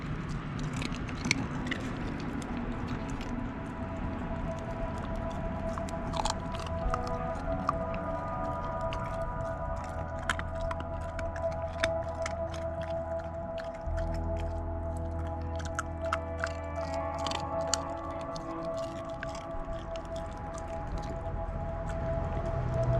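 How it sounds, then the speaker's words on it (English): An 8-week-old F3 Lycan Shepherd puppy gnaws through a chicken thigh bone from a whole leg quarter, giving close, steady crunching and wet squishing bites that repeat without pause, with a low hum underneath. "listen to her chew through that chicken thigh bone like it's nothing"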